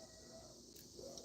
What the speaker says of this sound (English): because I hear the cicadas right now and I'm inside the house.